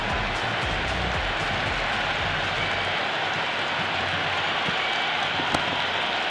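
A packed IPL cricket stadium crowd, RCB against Gujarat, cheering and clapping after a six, a broad continuous roar that holds for several seconds, loud and distant-sounding, with no clear voice standing out.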